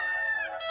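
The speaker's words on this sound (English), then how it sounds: "Rusty rooster, Rusty rooster." A rooster crows in a short, bright burst with a clear harmonic tone, loud and close, heard alone.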